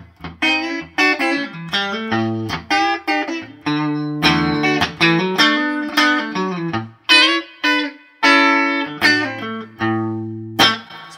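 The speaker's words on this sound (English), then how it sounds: "here's sort of a reference clean tone for the guitar into the amp" Clean electric guitar notes and chords from a Telecaster ring out through a tube amp, played alone in a loose, strummed and picked pattern with warm sustain.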